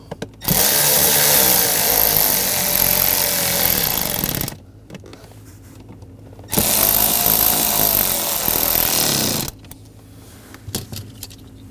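Power tool whirring as it snugs bolts on a BMW 328i xDrive master cylinder, loud and close, in two sustained runs of about four and three seconds, each followed by quiet pauses with faint metallic clicks.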